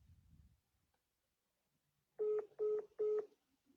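Three evenly spaced touch-tone beeps from a phone keypad ring out clearly after a couple of seconds of near silence, each tone short and steady.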